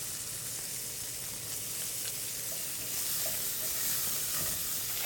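Diced shallots and steak sizzling together in a hot pan, a dense continuous crackle and hiss, close and steady, growing slightly louder partway through, with no voices.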